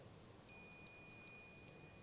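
A multimeter on continuity test sounds a thin, steady high beep that switches on after a moment and holds, faint and close over a quiet background hiss, during work on a car whose starter turns but whose engine won't start.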